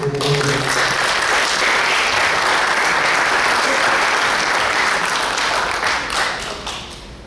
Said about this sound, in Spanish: pido un aplauso para Braulio Ornedo